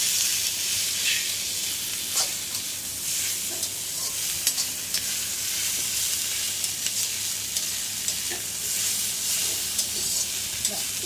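Chicken pasta ingredients stir-fried together in oil in a pan, a steady close sizzle with scraping stirs running the whole time, no talking.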